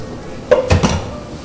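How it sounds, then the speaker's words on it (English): A quart-sized can of black beans tipped into a cooking pot, a short wet clatter and thud against metal around the middle, then quiet kitchen background. "we're going to dump in this can. It's about a quart-sized can of black beans, frijoles negros"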